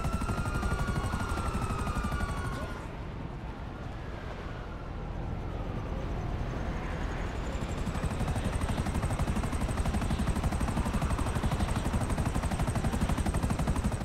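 Helicopter in the Grand Theft Auto Online video game, a steady loud rotor and engine drone running continuously, dipping slightly in the middle before returning, with no talk over it.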